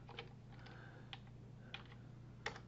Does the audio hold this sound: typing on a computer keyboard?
yes